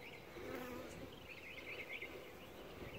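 A dense, steady drone of many honeybees buzzing close by, continuous and even with no pauses or voices.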